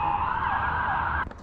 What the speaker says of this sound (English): Hearing a lot of ambulances out here.